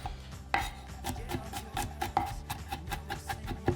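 Garlic smashed on a cutting board in a home kitchen while making Costa Rican sofrito: a run of sharp, close knocks, roughly every quarter second, with faint rubbing between strikes and no talking.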